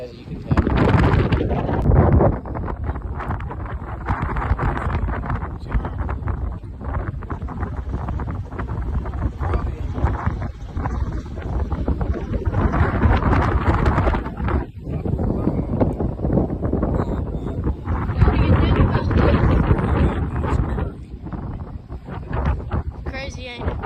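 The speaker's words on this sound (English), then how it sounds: "It's very windy, as you can tell." Strong wind gusting at the end of a beach pier, a steady loud roar with buffeting microphone rumble throughout, and people talking over it.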